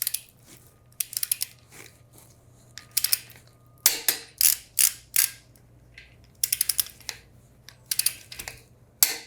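Wrench tightening Superbolt jack bolts, with crisp repeated ratcheting clicks in short bursts separated by pauses, close and clear over a faint low hum.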